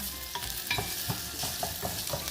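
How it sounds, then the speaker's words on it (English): Onions frying in a pan for a chickpea picadillo stew are stirred, so scraping strokes and soft clacks come at a steady pace over a dense, close sizzle. "we want to let the onions give it a head start cooking"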